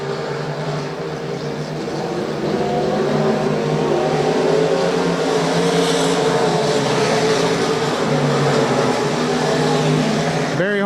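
Race cars circling the track at Rose Bowl Speedway, a dense sustained engine drone with rising and falling pitch as cars pass, loud and continuous with a pass-by swell near the end.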